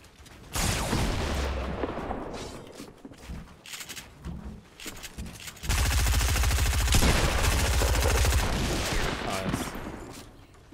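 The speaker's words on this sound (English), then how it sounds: "My shotgun just went off so fucking late." A shotgun is fired in Fortnite, with loud gunfire bursts, one near the start and then a longer, sustained stretch of rapid shots, mixed in with other game noise.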